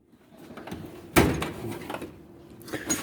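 A metal drawer of a metric wrench tool chest in a home garage slides open with a sharp clunk, followed by faint rattles of wrenches shifting inside.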